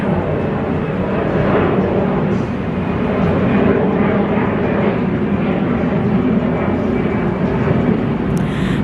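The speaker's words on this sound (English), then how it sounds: "airplane." A loud, steady roar of an airplane flying overhead, a broad continuous rumble that holds throughout without a clear rise or fade.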